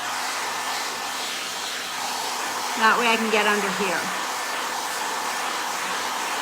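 Hair dryer blowing steadily while drying a cat after a bucket bath, a constant close whoosh, with a person speaking briefly over it partway through.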